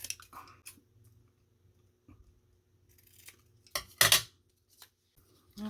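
A few crisp snips of scissors cutting paper for a craft mini album, close and sparse, with one louder sharp cut near the end amid quiet handling pauses.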